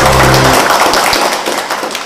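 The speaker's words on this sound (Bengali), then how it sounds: "আর একবার হাততালি" A crowd claps and applauds at a company stage event, a dense burst of clapping that starts loud and slowly thins over about two seconds, with no talk.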